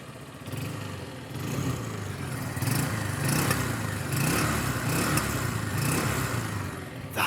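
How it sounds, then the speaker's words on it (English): A small Honda CB125E motorcycle engine hums with a steady, even exhaust note throughout, its mid-range drone holding at a constant level with light mechanical clatter mixed in. "for being a little bike, she does have quite a nice engine exhaust note"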